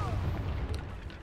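A Confringo spell blast in the video game Hogwarts Legacy lands as a single deep booming impact, then decays into a low rumble.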